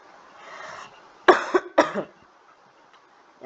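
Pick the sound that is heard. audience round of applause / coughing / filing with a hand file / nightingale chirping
coughing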